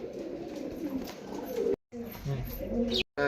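Dhooma breed pigeons, a male and female pair, coo in low, soft repeated murmurs close by, broken by two short silent gaps, with a voice talking over them.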